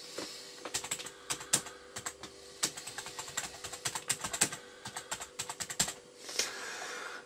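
Someone types on a computer keyboard to enter a password during a RemixOS 2.0 setup, producing quick irregular clicks and taps in close, fairly quiet bursts with short pauses.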